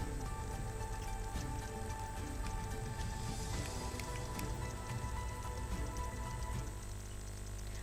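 Heavy rain with strong wind in Limbdi, Dahod, Gujarat: steady, dense rain pattering on surfaces throughout, with a constant broadband rush; no voices.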